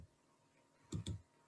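Two quick key presses on a computer keyboard, faint and close, after a near-silent pause.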